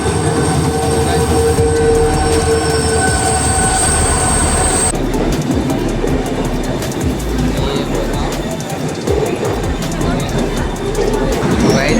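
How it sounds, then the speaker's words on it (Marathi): An Intercity Express train pulls into Dadar station, with a loud, continuous rumble of wheels and carriages, a high squeal early on, and rhythmic clatter over the rails as station voices murmur underneath. "आमची ट्रेन आली आहे दादरला."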